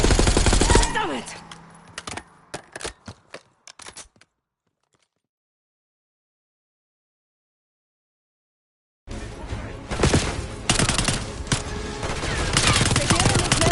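Rapid gunfire from the Black Ops 6 video game campaign, loud bursts of fusillade with scrapes and cracks for about four seconds, then near silence, then another dense stretch of continuous shooting and action noise, with voices mixed in.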